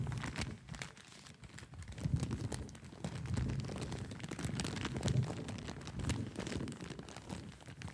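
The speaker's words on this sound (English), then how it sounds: "We have the paper crinkle." Paper crinkled up close as an organic sound sample, giving a continuous dense rustling and crackling texture that swells and eases over several seconds, with no voices.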